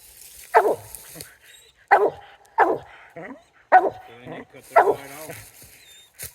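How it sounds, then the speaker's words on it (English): A coon dog barks repeatedly outdoors, with five or six loud, close barks spaced about a second apart, while people talk quietly between them. "says she's a coon dog"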